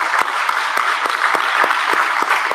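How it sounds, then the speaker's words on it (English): A meeting audience gives a round of applause for the speaker and those celebrating birthdays, steady dense clapping from many hands filling the room, close and even. "why don't we give one more round of applause to Matt and the birthdays who celebrated tonight"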